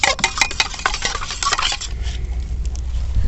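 Beaten eggs mixed with salt for a large omelet are whisked briskly in a bowl, with rapid metallic clinks and taps over a busy wet swishing that continues close and loud, then settles into a rougher churn.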